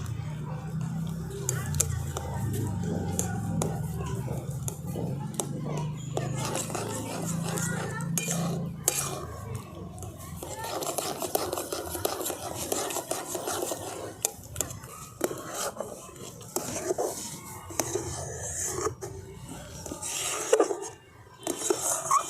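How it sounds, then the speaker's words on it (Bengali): A spoon stirs gram flour dough into sugar syrup in a pan, scraping and clinking irregularly over a long stretch while someone talks. "এরপরে চিনি শিরার মধ্যে খুব ভালো করে আমি এটাকে মিশিয়ে নেব"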